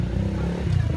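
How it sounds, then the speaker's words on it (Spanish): Motorcycles on a rural street in Ubud, Bali, a short stretch of close, loud engine rumble from passing bikes, with a voice faintly underneath. "Y vean las motocicletas."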